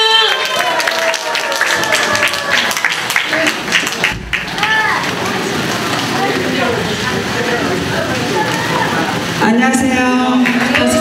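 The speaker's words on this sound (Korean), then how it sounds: "박수!" An audience at an open-air benefit concert at a rehabilitation center in Gimpo claps loudly and continuously, with crowd cheering and voices mixed into the applause as a singer is welcomed.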